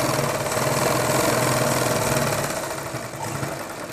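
A sewing machine runs continuously while stitching a seam on men's underwear, a close, steady whirring hum with a rapid mechanical pulse and no pauses.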